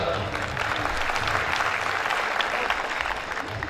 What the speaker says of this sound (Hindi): एक बार तालियां सर।